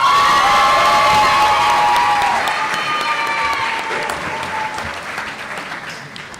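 Applause and cheering from a large graduation crowd at a high school commencement ceremony, loud and sustained with shouts rising over the clapping, then slowly fading over several seconds.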